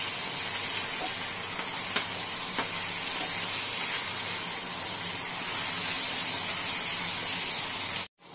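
Ginger paste frying in a pan for an egg masala, a loud continuous hiss of sizzling oil that holds steady throughout, with a couple of faint clicks, then cuts off abruptly at the end.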